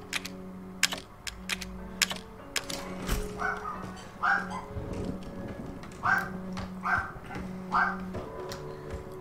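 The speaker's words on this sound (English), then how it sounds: "Bloody dog barking yet again." A dog barks repeatedly in Resident Evil 7, several short, sharp barks in a steady pattern over a busy bed of game sounds, clicks and low hum.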